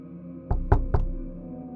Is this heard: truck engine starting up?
no